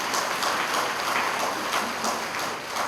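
An audience fills a hall with dense, steady applause at a college freshers' orientation day in Father C. D. Brauer Memorial Hall. The clapping holds at an even level throughout and eases slightly at the end.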